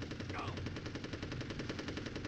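Rapid gunfire in the video game Army Men: Sarge's Heroes, a steady stream of evenly spaced shots sounding continuously and loudly for the whole stretch.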